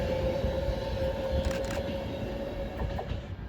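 A Class 390 Pendolino electric train, unit 390-122, passes at Warrington Bank Quay with a steady rolling rumble, a sustained high whine and some faint clicks of wheels on rails, fairly close.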